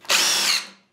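A DeWalt or Milwaukee power drill drives a two-inch wood screw in one loud, steady whir of just under a second, with no talk over it.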